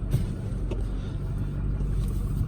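A 2008 Ford F550 bucket truck's engine idles and runs with a steady low rumble, shifting through a couple of gears without clear changes in level; close and continuous, no talking.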